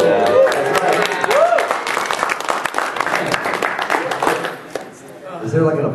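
A convention panel audience at Magfest 2013 applauds and cheers, dense crowd clapping filling the room while people talk over it, easing briefly before picking up again at the end.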